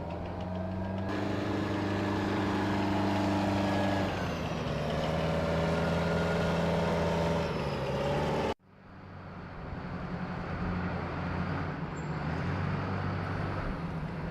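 Paladin self-propelled howitzers rumble loudly while driving onto a ship, a heavy tracked-vehicle engine drone with steady low harmonics, cutting off abruptly and giving way to a rougher, noisier engine and traffic din.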